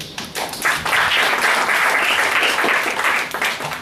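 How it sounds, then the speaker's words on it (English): Audience applause at a Toastmasters introductory workshop, a dense, steady wash of clapping from a room of people that swells quickly and holds loud for several seconds before tapering slightly, with a little talk mixed in. "Let's give a wonderful applause for that"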